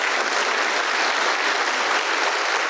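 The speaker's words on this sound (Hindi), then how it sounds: "ताली मत बजाइए" A large audience at a talk by Acharya Prashant claps loudly and continuously, a dense, unbroken roar of many hands close and full for the whole stretch.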